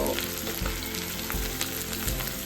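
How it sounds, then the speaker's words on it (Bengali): Chicken frying in a pan gives off a steady, close sizzle with soft low thumps of stirring in a short, even stretch. "এই চিকেনটাকে আমি দিয়ে দেবো চিকেনটাও কিন্তু প্রপার ভাজা হবে"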